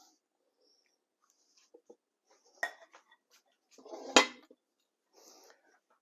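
Cowboy pasta salad being stirred together in a bowl, with a few soft scrapes and clinks followed by a louder burst of utensil-against-bowl clatter around the middle, then faint trailing mixing.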